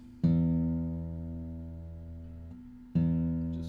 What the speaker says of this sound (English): It should sound like this: low E.